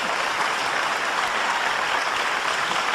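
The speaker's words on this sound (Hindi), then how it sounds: "5-7 लोग ताली बजा रहे हैं" A small group of people in a live audience at a Hindi poetry recital clap together, a steady, dense patter that runs throughout at moderate loudness with no voices.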